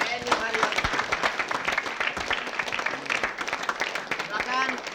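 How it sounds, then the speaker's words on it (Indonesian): Studio audience applause on the Indonesian comedy quiz show Kuis Humor, scattered rhythmic clapping running underneath a host's voice, who keeps talking over it. "Tepuk tangan."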